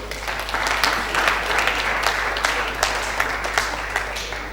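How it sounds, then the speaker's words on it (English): Audience applause at a leadership conference, a steady wash of clapping from a crowd that holds evenly for several seconds over a low constant hum. "So please give a warm round of applause."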